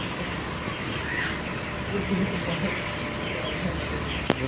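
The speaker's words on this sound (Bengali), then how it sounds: "কিছু মুরগি শুয়ে আছে কিছু মুরগি পানি খাচ্ছে" Chickens cluck and squawk steadily through a 23-day-old poultry farm flock, some birds lying down and some drinking, a dense continuous barnyard chatter heard close with no talk.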